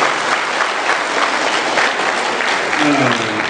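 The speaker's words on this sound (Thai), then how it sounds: "ในภาพรวมปรบมือให้ ตัวเราเองหน่อยครับ" A room of attendees at a school evaluation meeting applauds themselves, a loud, dense and even wash of clapping that fills the whole stretch without a break.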